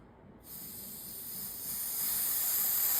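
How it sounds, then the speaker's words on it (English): An ME-9100 pneumatic fossil prep tool vents air when switched on, giving a sudden steady hiss that starts abruptly and swells louder over a few seconds, close and alone. "So with it fully tightened, it just kind of releases air like that."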